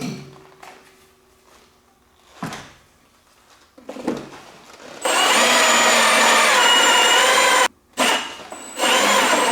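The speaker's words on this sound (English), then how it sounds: "get this drilled out" Power drill boring a hole for a chute actuator on a John Deere 1025r tractor, a few short knocks and handling sounds first, then a loud sustained high whine that briefly stops and restarts.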